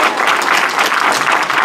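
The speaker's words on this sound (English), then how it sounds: "Let's give our candidates a round of applause." Loud, sustained applause from a crowd at a community candidate forum, dense even clapping that fills the whole moment without pause.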